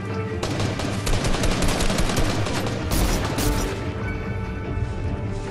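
Rapid automatic gunfire in a Vietnam War creative map in Fortnite, dense machine-gun bursts and crashing impacts rattling continuously, loud and close with no pause.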